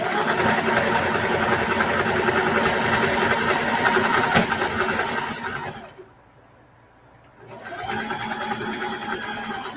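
A sewing machine fitted with a walking foot stitches a patchwork duffle bag, running loud and steady with a dense mechanical whir, stopping briefly for about a second before starting again.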